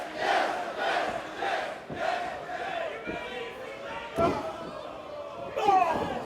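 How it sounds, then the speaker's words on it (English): A wrestling crowd at a WrestleCon Supershow chants in loud, rhythmic bursts, roughly one per second, echoing through the arena, with a few sharp slams mixed in. "Dreamer leading the crowd in some yes chants"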